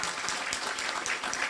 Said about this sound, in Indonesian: Kita kasih aplaus untuk Omah Badambulan ya